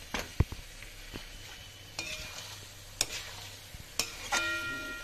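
Chicken fries in an uncovered pan, giving a low steady sizzle broken by several sharp clinks and scrapes of a utensil against the pan.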